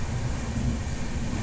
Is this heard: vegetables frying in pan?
no